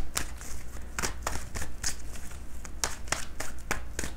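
Tarot cards are shuffled by hand close up in a series of crisp riffling bursts and soft slaps at an irregular rhythm, with quiet shuffling between them.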